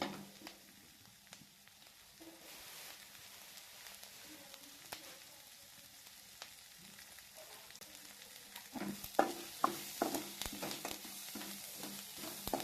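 Soft crackling sizzle of onions and ginger frying in a pan, with stirring clatter growing louder and busier toward the end.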